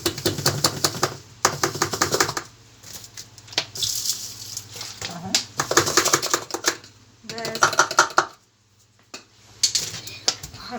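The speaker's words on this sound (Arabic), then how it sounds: "بنحط كيلو الملح كله، دي اول مره." Coarse dishwasher salt poured from a kilo bag into the salt compartment of a Zanussi 13-place dishwasher, a run of gritty rattling bursts with short pauses, close and fairly loud, with a little speech between the pours.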